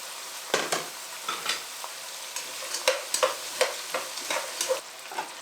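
Onions and peppers fry in a pan with a constant close sizzle, cut through by repeated scraping stirs at an uneven rhythm.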